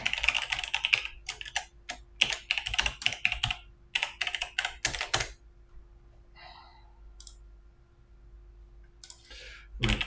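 Rapid bursts of computer keyboard typing as a password is entered, crisp close key clicks in quick runs with short pauses, then a faint sigh and quieter taps near the end.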